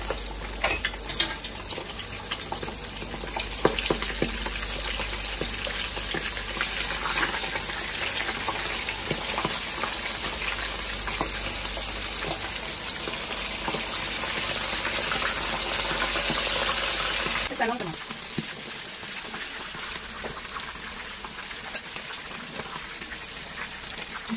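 Eggplant frying in hot oil in a pot for chicken maqluba, a steady loud sizzle and bubbling that continues throughout, easing slightly toward the end.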